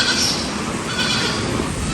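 Goat bleating on a farm, a few faint bleats mixed into a continuous broadband background noise, no talking.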